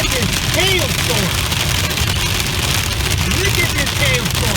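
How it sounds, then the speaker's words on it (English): Marble-sized hail hits a car during a heavy Central California storm, a dense, constant patter and clatter on the metal over steady rain noise, with voices talking through it. "You can see the hail bouncing off the car."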